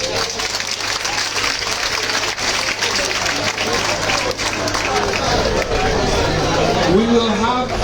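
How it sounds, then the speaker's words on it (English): Crowd at a public debate for Kawempe North parliamentary candidates in Uganda claps steadily and loudly, with cheering voices and chatter mixed into the sustained applause. "Let's clap for all the candidates for Kawempe. Please clap louder."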